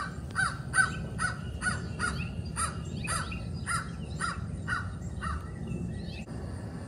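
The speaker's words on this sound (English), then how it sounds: "This is the crow that's calling." Recorded crow caws play outdoors from a Bluetooth speaker, a regular series of about a dozen harsh calls at steady rhythm over low background rumble, slightly tinny and moderately near.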